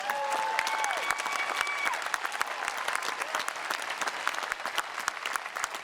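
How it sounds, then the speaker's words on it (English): A graduation ceremony audience applauds steadily, with dense, even clapping from a large crowd throughout and no talking over it. "That deserves a round of applause."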